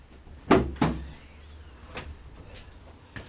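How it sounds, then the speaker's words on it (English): Bonnet of a 1995 BMW E36 318i being released and lifted: two sharp, close clunks half a second apart, then a few faint clicks and a light knock in quiet surroundings. "So pop the bonnet."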